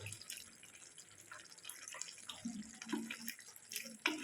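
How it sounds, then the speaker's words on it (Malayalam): Vinegar poured into a jackfruit masala curry, heard as a light trickle and drip of liquid, faint and close, with soft clinks of utensils and no talk. "ഇതിലേക്ക് കുറച്ച് വിനാഗിരി ഒഴിച്ചു കൊടുക്കുന്നത് രണ്ട് ടേബിൾ സ്പൂൺ വിനാഗിരി"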